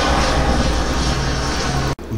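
Helicopter passing overhead near a stadium, a loud, continuous broadband rotor and engine roar with a steady low drone that fills the clip and cuts off abruptly near the end.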